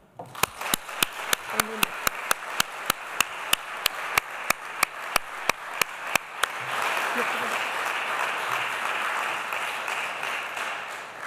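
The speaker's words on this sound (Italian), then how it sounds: "le facciamo un bel applauso di benvenuto" Audience applause welcoming a writer to the stage at a talk on gender equality: first a run of evenly spaced, sharp rhythmic claps in unison, then breaking into a sustained dense wash of clapping from the crowd.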